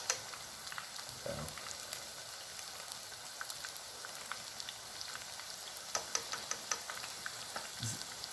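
Chicken pieces crackle and sizzle steadily in a deep fryer of hot oil, a dense crackling hiss with occasional sharper pops, moderately faint and without voices.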